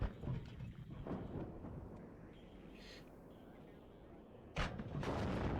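Polish Honker rocket artillery in the game Warno fires a volley, heavy booming blasts and rumbling roar, with a sharp burst near the end and a dull sustained rumble throughout.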